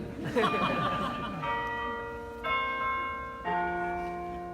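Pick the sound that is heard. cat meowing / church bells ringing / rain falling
church bells ringing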